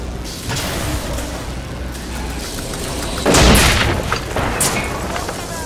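Rocket explosions in the game Bioshock Infinite form a loud, continuous wash of booming blasts and crackling fire, with a heavier burst near the middle and a voice talking over the chaos.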